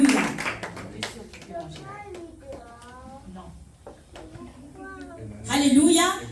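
A church congregation claps to acclaim God, with sharp rhythmic handclaps under a sung, chanted voice, building to a loud burst of clapping near the end.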